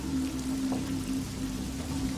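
Rain falls steadily outdoors in spring, an even, continuous patter and wash with no voices over it.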